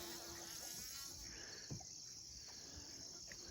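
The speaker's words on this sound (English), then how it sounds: "The bees are fighting over this flower." Steady insect buzzing hums outdoors in a garden, a continuous drone of bees close by fighting over a flower, with a faint higher whine running through it.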